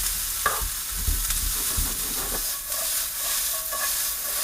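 Blanched vegetable medley sautéing in a pan, a steady sizzle with intermittent stirring scrapes and clatters, close and moderately loud.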